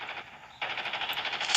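Shotgun fire in the mobile shooter Call of Duty Mobile, a steady run of close, loud repeated blasts that starts after a quieter lead-in and carries on without a break.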